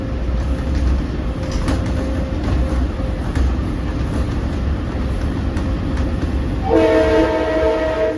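Rumbling Long Island Rail Road train passing close by at Hicksville with steady rail noise and faint clacks, then a loud, sustained horn blast sounds near the end.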